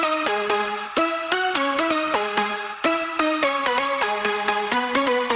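Compressed, processed synth leads from a remix play a dense, bright stepping melody, continuous and evenly loud throughout with no gaps.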